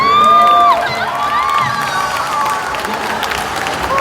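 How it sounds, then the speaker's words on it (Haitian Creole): A lively crowd at a live foundation event with children cheers and claps, loud and sustained, with shouts and whoops rising over steady applause. "Applaudis ça."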